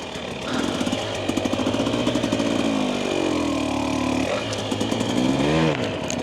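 A 2025 Husqvarna TE300 dirt bike engine revs up and down under blips of the throttle, a loud, close two-stroke buzz with rapid rising and falling pitch.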